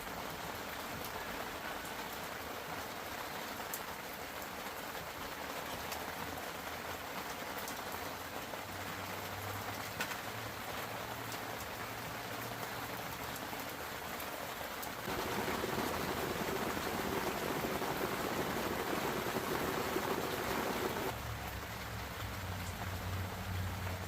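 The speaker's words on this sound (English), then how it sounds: "It's been raining for several hours now" Steady rain drums on the fabric of a Deerfamy hub tent gazebo, a continuous dense patter of drops that grows heavier partway through, with no voices.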